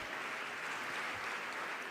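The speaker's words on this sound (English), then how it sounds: "Can we clap for her?" An audience at a youth health session claps in a steady, even wash of applause, dense and continuous at moderate volume throughout.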